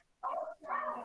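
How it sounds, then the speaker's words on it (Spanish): A dog barks twice in quick succession, fairly close and loud, with a short gap between the two drawn-out woofs. "Hasta el perro lo disfrutó, por lo que escucho."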